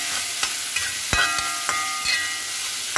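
Vegetables with turmeric and salt sautéing in a pan for a chapati side curry, a soft steady sizzle broken by a few sharp spatula scrapes and taps, close and moderately loud with no talking.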